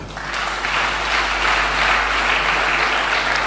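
A church congregation applauds together during a French-language sermon, a loud, dense and steady burst of clapping that stays even for a few seconds with no voices on top.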